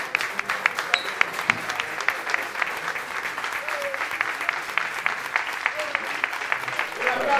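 Applause at a company Christmas celebration, a room full of steady, close clapping that keeps going without a break, with voices mixed in beneath the clapping.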